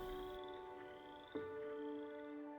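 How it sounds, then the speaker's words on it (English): Frogs call at a woodland vernal pool in spring, giving sustained tonal peeping and trilling with several voices overlapping at moderate distance and one sharp call standing out midway. "spring peepers that make an incredibly loud peeping noise"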